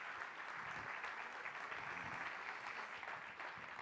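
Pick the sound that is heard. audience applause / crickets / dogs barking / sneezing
audience applause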